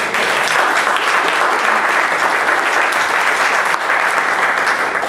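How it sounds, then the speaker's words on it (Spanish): A congregation at an evangelical church service in Miami breaks into loud, sustained applause, a dense wash of clapping from many hands that holds steady for several seconds without any speech. "Dale un aplauso."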